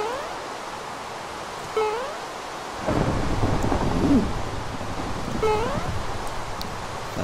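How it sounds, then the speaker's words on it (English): Minecraft thunder rolls in as a loud, low rumble and stays over steady rain, with some game sound effects and no talking. "Thunder."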